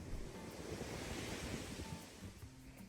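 Ocean waves wash steadily onto a beach in Los Cabos, Mexico, a continuous close surf roar with wind buffeting the microphone throughout.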